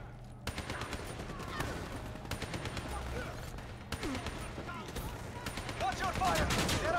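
Gunfire in the Call of Duty: Black Ops 3 campaign, repeated bursts of rapid automatic shots in several clusters, with combat chatter and voices over the fire.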